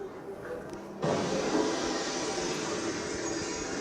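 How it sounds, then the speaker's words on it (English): A meteor explosion's shock wave arrives as a sudden loud blast out of a quiet background, then rolls on as a sustained, broad roaring rumble that fades only slightly. "That noise, that loud noise, is the shock wave from the explosion."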